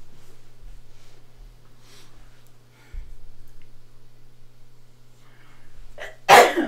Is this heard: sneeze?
yes